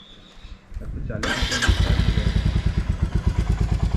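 A motorcycle engine starts up for a bike trip, a few soft clicks and thumps, then a sudden roar that settles into a loud, rapid, even idle thumping close by.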